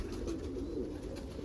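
Low, soft cooing from homing pigeons, including an Andalusian Homer cockbird, repeating steadily up close on a windy morning with no talk.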